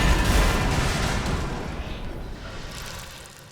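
A truck explodes in the video game The Walking Dead: A New Frontier, a loud booming blast with a rumbling, crackling tail that slowly decays over a few seconds.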